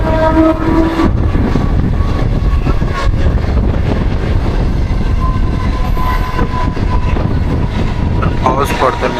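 A Mumbai local train running in the rain, with a loud continuous rumble and rattling wheels, a horn blast near the start and brief squeals later on, close by, with voices faintly mixed in.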